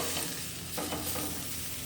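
Hamburger patties sizzling on a BBQ grill, a constant dense hiss of frying with a brief scrape as the patties are shifted partway through.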